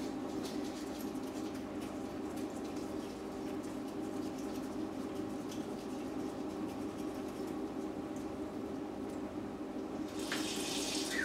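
Dirty differential oil drains steadily from a C5 Corvette after the fill plug is pulled, making a continuous soft trickle and splatter into a catch pan, faint and even, with no talking.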